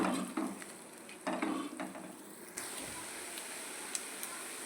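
Beaten eggs frying in a pan for egg ukkuru, a soft hiss of sizzling with a few scraping stirs early on, then a steady close sizzle that carries on alone.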